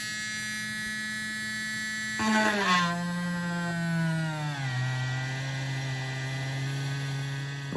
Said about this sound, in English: Now we're going to drill a hole